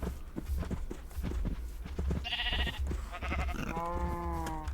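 Sheep in Minecraft give two distinct bleats in the second half, following quieter clicking and shuffling sounds.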